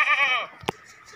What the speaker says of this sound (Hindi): ये वेखो जी ये बकरा आ गया